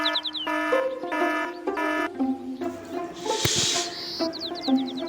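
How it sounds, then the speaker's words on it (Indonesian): A morning alarm clock goes off with a run of bright, repeating melodic beeps and chirping tones, fairly close and steady, with no voices. "Alarm telah berbunyi. Itu tandanya hari sudah pagi."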